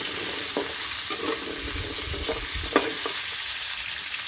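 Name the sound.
potatoes frying in oil in a pan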